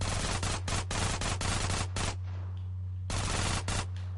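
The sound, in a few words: micro SMG and assault rifle gunfire in GTA San Andreas video game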